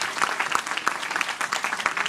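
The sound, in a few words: audience applause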